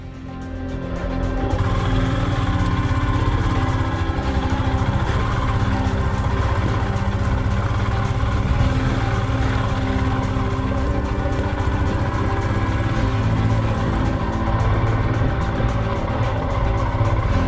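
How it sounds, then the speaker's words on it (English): A Royal Enfield Himalayan motorcycle's single-cylinder engine drones steadily at low revs on a slow, technical off-road climb in the Croatian mountains near the Bosnian border. The engine is loud and close, and the pull is smooth, with no talking. "This is the Himalayan doing what it does best: strong low end torque, smooth and predictable power delivery, and gearing that really helps on slow technical climbs."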